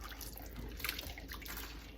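A spoon swirls vegetable broth and water around in a pot, producing a soft, continuous sloshing with faint clinks, close and quiet, with no voices.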